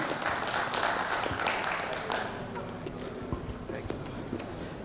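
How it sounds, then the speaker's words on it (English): Clapping from an audience at a corporate presentation event, strongest at the start and thinning slightly as it continues, with faint voices underneath. "A round of applause, everyone. Put your hands together for this moment."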